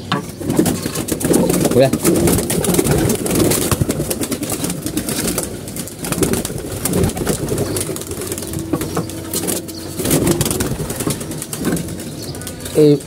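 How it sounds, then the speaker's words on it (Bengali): A flock of pigeons takes off in bursts of flapping wings, with cooing and a person talking nearby. "এই যে কবুতরগুলো উড়াই দিলাম"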